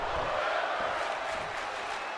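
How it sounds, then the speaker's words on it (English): Wrestling crowd in an arena roaring and chanting together for two fighters in a long match, a steady dense wash of many voices with no break. "The crowd is telling Super and Gen X to fight forever"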